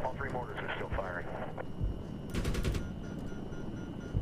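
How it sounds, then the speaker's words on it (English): Mortar blasts and rapid gunfire in the Medal of Honor video game, a burst of loud repeated shots in the middle over a constant roar of battle noise, with a voice talking before the firing. "All three mortars are still firing."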